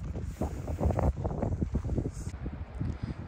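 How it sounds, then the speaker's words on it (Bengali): Strong gusty wind beside the Baspa river at Chitkul in Kinnaur, heard as loud close buffeting rumble against the microphone in uneven pulses, with faint airy hiss behind and no talking. "প্রচন্ড হাওয়া দিচ্ছে"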